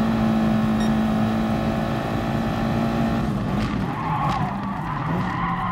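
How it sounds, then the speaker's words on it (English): Race car tires squeal and skid in the GT Sport racing video game, a loud, sustained screech over engine drone that turns rougher and more broken partway through. "Losing grip on the tires now."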